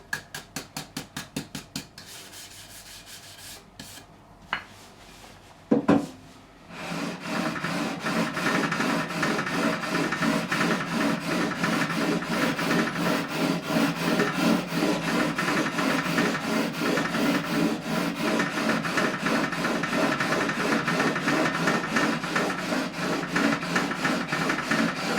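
Sandpaper of 400 grit rubbed back and forth over the frets of a 1957 Hofner President guitar during a refret, a quiet scrape or two and a sharp knock, then steady rapid rhythmic rasping strokes close up, no talk.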